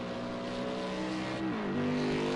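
Race car engine in the Project CARS 2 racing game at Daytona, a steady droning hum that dips in pitch briefly as it shifts, then holds steady and loud throughout without talk.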